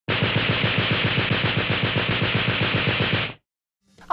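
Machine gun sound effect: a rapid, evenly spaced burst of loud automatic fire lasting a little over three seconds, then it stops abruptly, followed by a brief faint noise.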